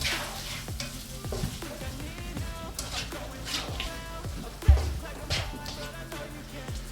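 Cous cous being stirred with soy sauce in a hot pan, a quiet sizzle under repeated scraping and clinking strokes of a utensil, with one sharper knock midway, heard up close.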